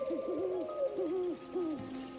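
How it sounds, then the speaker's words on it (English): In the video game Infinity Nikki, a magic outfit calls birds, which answer with a series of soft, hooting, owl-like calls that rise and fall in pitch over a faint ambient background. "This outfit has the ability to call the birds."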